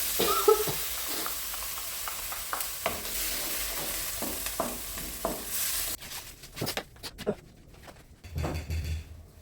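Tauco, a fermented soybean paste, frying in a pan with a steady sizzle that holds for the first half, then breaks into sparser clatters and spatters as a spoon stirs, close and moderately loud.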